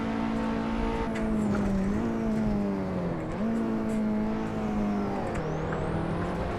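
KTM X-Bow race car engine lapping Silverstone in the video game Assetto Corsa, a loud steady droning whine that rises and drops with gear changes, heard from the cockpit without talk.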